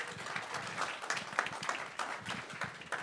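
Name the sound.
audience applause at meetup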